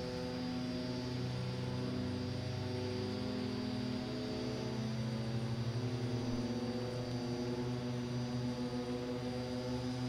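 Twin propeller engines of a DHC-6 Twin Otter run at max RPM in the X-Plane 11 simulator, a steady loud droning hum with strong layered tones holding evenly and alone throughout.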